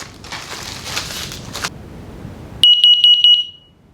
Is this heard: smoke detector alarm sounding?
yes